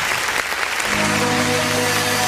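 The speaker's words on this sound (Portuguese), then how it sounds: "Vamos aplaudir o nome do Senhor." Brazilian church congregation applauding at the close of a worship service, a broad, lively clapping crowd with a sustained organ or keyboard tone rising beneath it partway through.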